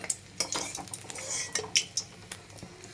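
Fried hilsa fish heads lifted out of a frying pan, with several sharp clinks and scrapes of a metal utensil against the pan over a faint sizzle, close and fairly quiet, no talking.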